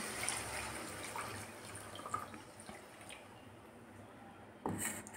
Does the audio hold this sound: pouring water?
yes